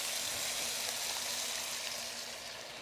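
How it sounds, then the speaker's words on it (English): Sauce hits a hot pan of golden-brown pork chops cooked with Dijon and honey, setting off a loud, steady, dense sizzle that holds for about three seconds and eases slightly at the end. "I'm going to add my sauce straight to the pan"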